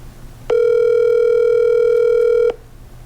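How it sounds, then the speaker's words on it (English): A telephone ringback tone sounds while a call is placed: one loud, steady electronic tone held for about two seconds, clean and alone over quiet background hiss. "I'm gonna give her a call."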